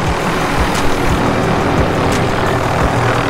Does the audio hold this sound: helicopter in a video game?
yes